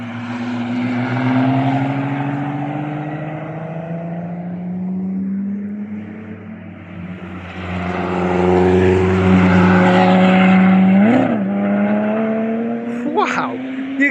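A Lotus Exige race car drives a track day lap at Cadwell Park, its engine note loud and close, rising and falling with revs over about fourteen seconds, with a sharp shift blip near the end.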